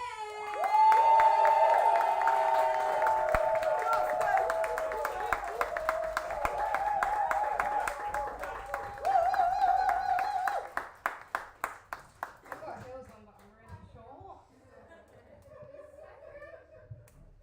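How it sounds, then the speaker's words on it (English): A poetry night audience gives a warm round of applause as a poet takes the stage, dense clapping and light laughter that thins into a few scattered claps before fading out. "with a massive round of applause, welcome to the stage, Steph!"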